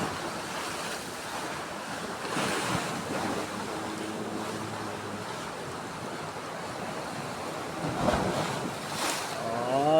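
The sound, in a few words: strong sea waves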